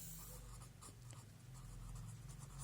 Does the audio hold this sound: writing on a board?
yes